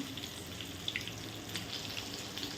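Eggplant fries in hot oil with a quiet, even sizzle and a few scattered pops. The sound is faint and steady, and no one speaks.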